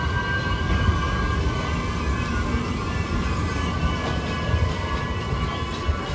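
The Guruvayur–Trivandrum Intercity Express runs through Kerala near Karunagappally with a loud, continuous rumble of wheels and carriages heard from onboard, steady for several seconds without speech.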